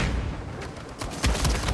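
Dense rapid gunfire from a Mettler rifle in a multiplayer match of Uncharted 4, a continuous rattle of close, loud shots with a heavier burst near the end, mixed with busy game noise.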